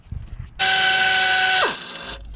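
Pneumatic impact wrench spinning out a water pump bolt on a Ford F150 3.5, one loud sustained whir of about a second that winds down at the end, close up in a quiet garage.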